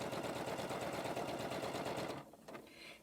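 A Janome 15000 sewing machine stitching patchwork fabric runs in a steady rapid whir, then slows and stops near the end, followed by a couple of faint mechanical clicks.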